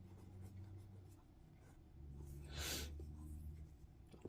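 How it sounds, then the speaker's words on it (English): A pen scratches across paper in a short burst of close, faint writing strokes over a low background hum. "I'm going to write that down."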